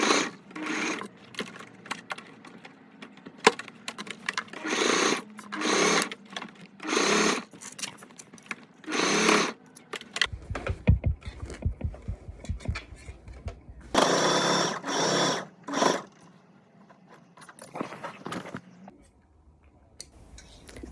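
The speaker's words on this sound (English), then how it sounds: "this is probably the part I can do mostly with the sewing machine" Sewing machine stitching patches onto denim overalls, running in repeated rapid bursts with pauses between, plus a stretch of lower mechanical whirring and occasional handling noises.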